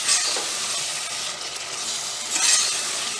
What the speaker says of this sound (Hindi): प्रॉन्स है वो बहुत ही अच्छे से मसाले में फ्राई हो रहे हैं।